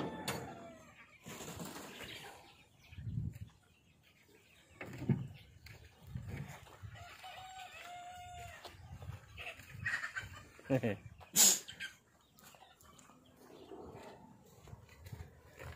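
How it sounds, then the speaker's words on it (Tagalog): Large chickens cluck softly in a coop on a farm, with people talking intermittently nearby. "kulungan ng mga malalaking manok"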